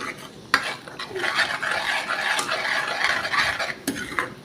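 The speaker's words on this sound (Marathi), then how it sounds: "इकडे आपला मसाला बघू शकता तुम्ही लालसर असा परतून घेणं चालू आहे" Red chili masala being sautéed in a pan for a crab curry, with close, continuous sizzling and repeated scraping strokes of a spatula against the pan, no talk.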